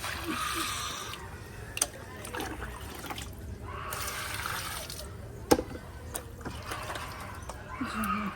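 Water is poured in uneven bursts, splashing and trickling with short pauses between, accompanied by occasional knocks and handling sounds nearby.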